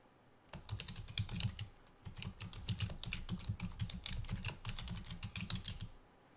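Rapid typing on a computer keyboard, with quick clusters of close, crisp key clicks in an uneven rhythm. A short pause breaks the run midway, and then the typing continues until it stops near the end.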